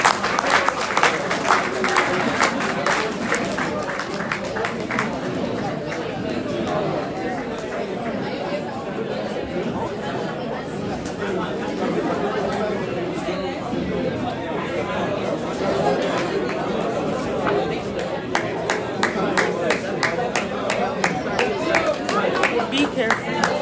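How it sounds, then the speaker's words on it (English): A crowd at a college athletics gathering applauds men's soccer players: sustained, dense clapping from many hands, mixed with chatter and voices throughout, louder at the start and end. "please give them a round of applause for their efforts throughout the season"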